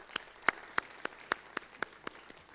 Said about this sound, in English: let us give them applause